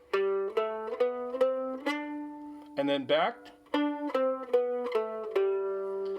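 Plucked mandolin notes sound a fourth-finger practice pattern as a clear, evenly paced sequence of ringing tones, close up, with a brief spoken phrase midway.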